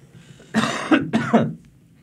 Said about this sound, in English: Hang on one second, I'm going to cough.